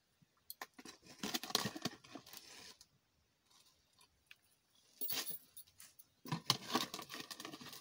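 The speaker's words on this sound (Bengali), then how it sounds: "একটা গন্ধরাজ লেবুর পাতা ছিঁড়ে দিচ্ছি" A gondhoraj lemon leaf is torn apart by hand, giving quiet, crisp crinkling and tearing bursts in a few separate spurts with near-silent pauses between them.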